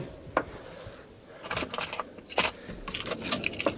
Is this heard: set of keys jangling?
yes